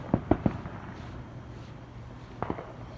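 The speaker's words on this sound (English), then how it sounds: "we hear a lot of fireworks over there" Distant fireworks bang outdoors at night, a quick cluster of three sharp pops followed by a pause and two more faint reports.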